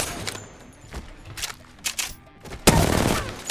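Weapon fire in the video game Apex Legends: several short bursts ring out, then a louder sustained volley near the end, all close and loud.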